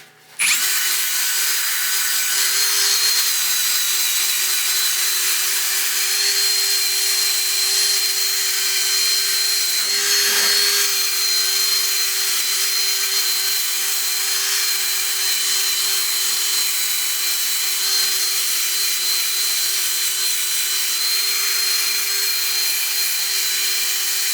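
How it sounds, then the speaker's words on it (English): A drill whirs steadily, spinning an abrasive fiber brush scrubbing against wood, a continuous loud rasp with a brief dip partway through. "I just run it over a drill and it gets rid of all the little fuzzies"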